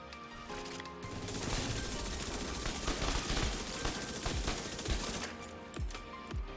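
Gunfire from a weapon in the video game Division 2: dense, rapid bursts of shots with sharp impacts, steady and fairly loud throughout, with no talking.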